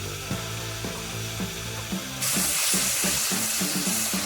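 Ginger, cumin and tomato pastes fry in a pan, heard as a soft sizzle with a steady, rhythmic scraping tick of stirring, until the hiss suddenly surges louder and brighter partway through.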